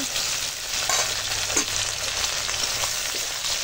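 Onions frying in a pan with chopped tomato and ginger-garlic paste give a steady, close hiss of sizzling oil, with occasional stirring scrapes and no speech.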